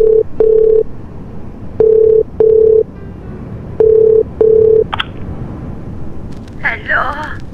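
A phone dials out to the Philippines: six short beeping dial tones in pairs, then a brief electronic chirp and a warbling ring signal near the end, loud and close.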